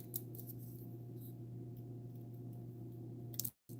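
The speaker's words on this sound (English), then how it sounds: "We'll use my snips, and I'm gonna just cut these apart" Snips cut apart pieces of paper card with a few crisp, close snipping clicks over a quiet background, ending in a brief silence.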